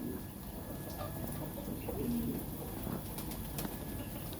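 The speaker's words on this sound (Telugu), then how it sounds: "పావురాలు ఉన్నాయి." Pigeons coo softly at a farm with hens and fenced chickens in Qatar, a faint low cooing amid quiet outdoor background murmur, no one speaking.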